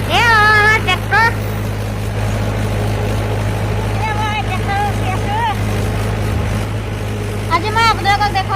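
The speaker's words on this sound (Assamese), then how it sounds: "এ আমাৰ ট্ৰেক্টৰ।" A tractor engine runs steadily in a paddy field during bao rice cultivation, a constant low drone heard close throughout, with a person speaking over it at times.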